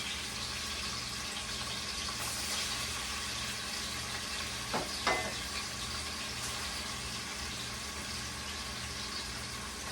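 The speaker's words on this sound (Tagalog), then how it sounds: "ipiprito ko na yung tokwa" Steady sizzling of tofu frying in hot oil, a constant crackling hiss throughout with a couple of brief clinks partway through.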